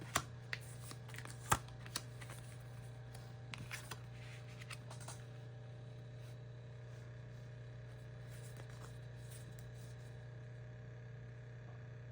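A deck of tarot cards is shuffled and laid out, with sharp riffles and snaps near the start that settle into soft sliding and tapping over a steady low hum.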